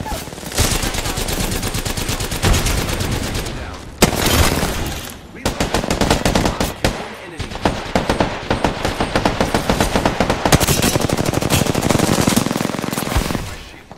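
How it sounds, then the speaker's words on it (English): An R99 submachine gun fires in rapid, loud automatic bursts during a video game battle, nearly continuous with a brief pause around the four-second mark, dense and close. "Luckily, my R99 saves me."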